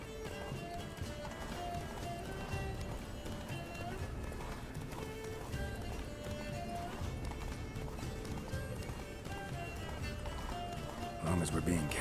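Geralt's horse Roach gallops in The Witcher 3, a continuous rapid clip-clop of hooves running under game music and voices.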